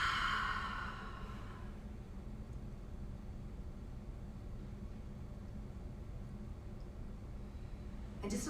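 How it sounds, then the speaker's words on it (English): A person exhales one deep breath through the mouth during a guided breathing meditation, a short soft breathy rush at the start, followed by quiet room hiss. "Inhale through the nose"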